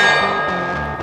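A bullet from a Henry .45 Colt lever-action rifle strikes a steel target, one short ringing metallic clang that rings out and fades within about a second.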